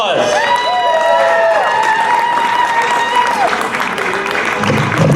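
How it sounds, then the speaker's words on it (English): Crowd at an outdoor reopening rally at the Rhode Island Statehouse applauding and cheering continuously for several seconds, loud and dense, with a voice calling out over it at the start. "Let's give him a round of applause."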